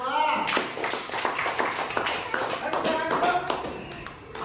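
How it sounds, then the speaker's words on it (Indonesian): A classroom of students claps for a group, brisk crisp claps in a quick, somewhat uneven rhythm, close and fairly loud, with a few voices mixed in and the clapping tapering off near the end. "Oke, tepuk tangan untuk kelompok 2."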